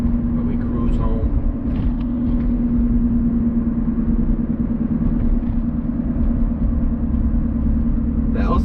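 A 2014 Lexus IS F Sport cruises in auto mode, a steady, loud engine and road rumble with a constant low drone throughout, heard from inside the cabin with faint intermittent noises on top.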